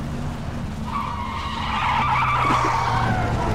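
An off-road truck in PUBG skidding over rough ground, tires squealing and scraping over a steady engine drone that grows louder midway, with no talking.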